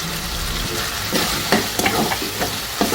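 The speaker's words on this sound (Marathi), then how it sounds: "आता यामध्ये मी घालणार आहे कांदा आणि खोबऱ्याचं वाटण" Onion and coconut paste frying in a pan for Nashik-style matki misal, a steady close sizzle with scraping stirs of a spoon breaking through every so often.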